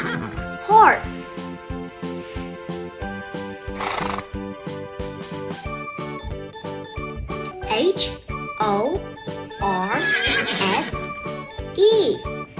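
Two sharp horse neighs ring out near the start and end over lively music, with hoof clip-clops, light jingling and a voice mixed in.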